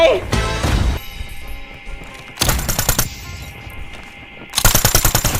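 Automatic gunfire from Call of Duty Mobile rattles in several loud, rapid bursts separated by short pauses, with crashing impacts and an excited voice in between.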